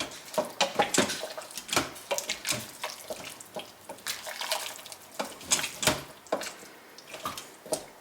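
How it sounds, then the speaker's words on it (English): Bone stock being stirred in an Instant Pot: liquid sloshes and splashes with repeated close clinks and knocks of a utensil against the pot, in irregular bursts throughout. "So let's just give it a good stir."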